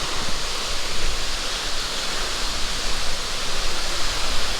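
Ellewala waterfall in Ella, Sri Lanka, pours as a steady, dense roar of falling water, close and continuous, with no voices over it.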